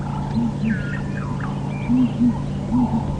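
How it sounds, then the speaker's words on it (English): Southern ground hornbills give deep, soft booming hoots in pairs from a distance in the bush on a morning safari drive, while other birds call faintly in the background. "Beautiful bird, ground hornbill,"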